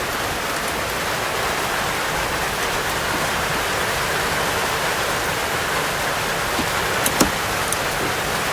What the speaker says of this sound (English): Just fucking raining up a fucking storm out here.